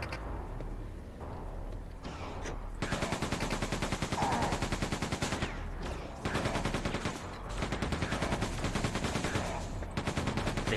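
Rapid automatic weapon fire from the laser gun in Quake 2 rattles in long continuous bursts, loud and repetitive, with brief pauses between volleys.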